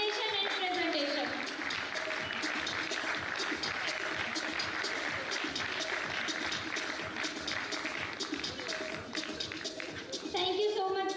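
Audience applause at an industry awards ceremony for compounding experts, steady dense clapping filling the whole stretch at moderate level, with faint voices mixed underneath.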